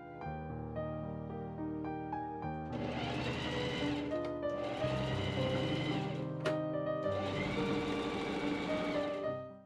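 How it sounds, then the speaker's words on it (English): Sewing machine stitching the front facing piece of a late Victorian crimson teagown, running in three steady whirring bursts with short pauses between, over quiet background music. "I pin and machine sew the front-facing piece."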